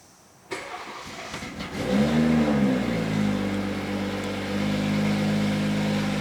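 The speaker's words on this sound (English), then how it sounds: "Okay, so we're gonna go ahead and turn on the car." A 2020 BMW M340i starts with a sharp crank and catches, its engine rising to a loud revving flare before settling into a steady, close, even idle that keeps running alone.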